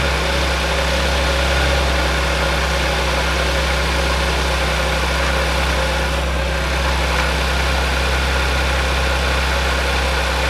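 An Audi S4 with a modified aftermarket exhaust idles steadily, a deep, even engine rumble that stays constant and close throughout with no speech.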